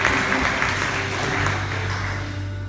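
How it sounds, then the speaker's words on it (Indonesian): Applause and cheering from a church congregation praising Jesus during a Sunday worship service, a steady dense wash of clapping held at even loudness throughout, with a low organ-like tone sustained underneath. "Mari yang percaya kita berikan tepuk tangan sorak-sorai bagi Tuhan Yesus"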